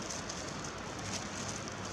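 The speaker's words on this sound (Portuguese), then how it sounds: "Choveu muito aqui essa noite e ainda continua chovendo" Rain still falls after a heavy overnight downpour, making a soft, even patter throughout.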